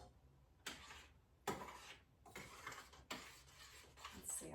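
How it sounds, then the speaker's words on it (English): Dipping sauce is stirred in a pot, with several quiet separate scrapes and clinks of a utensil against the pot, faint and close. "Let me just give this a stir real quick."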